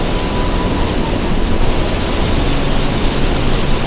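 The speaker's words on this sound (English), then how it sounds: "It's so windy here from the power of the waterfall that my shirt keeps blowing up" A powerful waterfall roars nearby while strong wind gusts around it, making a dense, steady wash of loud broadband noise with no voices.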